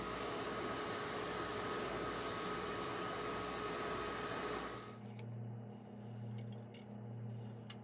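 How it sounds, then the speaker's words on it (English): Vacuum cleaner drawing debris off a Ford 289 stroker engine's timing cover area during a rebuild, a loud steady whooshing suction that cuts off partway, leaving a lower motor hum winding down with faint clatter. "I'm going to vacuum that off before I suck all that crap back in the hole."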